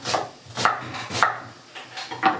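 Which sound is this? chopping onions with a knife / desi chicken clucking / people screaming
chopping onions with a knife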